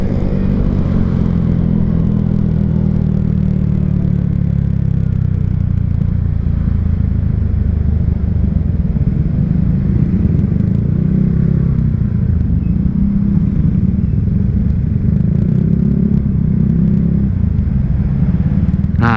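Honda Vario scooter engine revving steadily from idle with its CVT belt slipping, a loud continuous rumble and whir close by throughout, with no talk.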